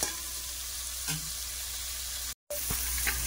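Mutton curry masala frying in a pan, a continuous close sizzle with a few scraping stir sounds and one brief gap, no voices.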